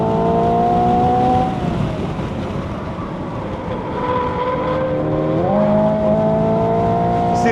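Tires of a heavy 2025 Hyundai Ioniq 5 N squeal through a two-turn corner on a race track, a loud close wavering whine that bends in pitch, fades briefly in the middle and returns over steady motor rumble.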